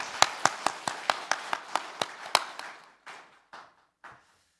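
A church congregation at a Sunday service claps in a quick even rhythm of about a dozen crisp claps, then slows to a few scattered final claps before falling silent, heard from some distance and fairly soft.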